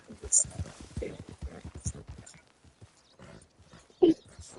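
Horse in Red Dead Redemption 2 rolling and playing in mud, with soft thuds, hoof steps and a brief snort or whinny near the end, mostly under people talking.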